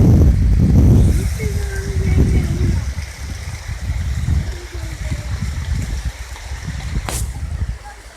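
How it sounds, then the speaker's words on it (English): A waterfall rushes loudly nearby on a nature walk, a steady broad roar of falling water running throughout, while a person talks over it. "So now, look at the wonderful waterfall."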